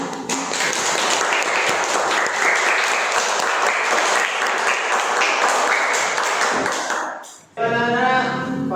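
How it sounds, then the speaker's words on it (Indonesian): Schoolchildren in a classroom applaud together in a loud, dense burst of clapping that runs for about seven seconds, dips briefly, then resumes with a brief ringing tone over it. "beri tepuk tangan untuk kelompok 2."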